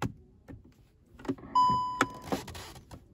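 The gear selector mechanism of a 2021 Skoda Octavia clicks several times, followed by a short electric motor whine, then more soft clicks and a muffled whir, all quiet and close.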